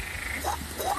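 A person imitates a frog in heat with the voice, giving two short nasal croaks about half a second apart, close and fairly quiet in an outdoor garden setting.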